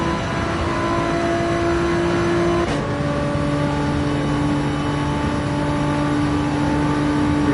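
Car in Gran Turismo 7 on the Dragon Trail circuit, engine holding a steady high rev in fifth gear, with a brief dip and quick recovery midway, loud and continuous.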